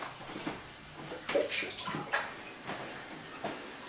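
Water is poured while refilling a pet's bowl with fresh water, giving a soft, intermittent splashing and trickling hiss with a few brief clinks, fairly quiet and close.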